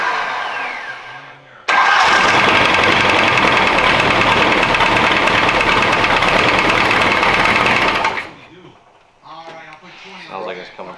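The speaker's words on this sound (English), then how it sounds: "That's a rod knock." A race car engine with a rod knock starts after a short pause, then runs loud and harsh for about six seconds before shutting off, followed by people talking.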